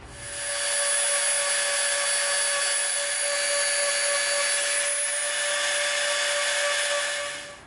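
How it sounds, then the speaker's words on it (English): A Dremel rotary tool bevels the inside edge of a brass tube, giving a loud, sustained high-pitched whine that holds steady for several seconds before tapering off, with no speech. "we are going to slightly bevel the inside edge with our Dremel"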